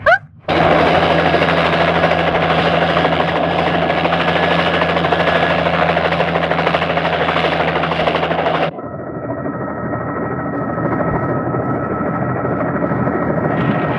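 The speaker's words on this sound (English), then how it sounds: "I've never been in a helicopter before." A loud, steady helicopter drone with rapid chopping blades fills the air, then shifts to a muffled, lower cabin rumble partway through.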